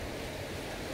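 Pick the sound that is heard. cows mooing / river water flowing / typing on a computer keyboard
river water flowing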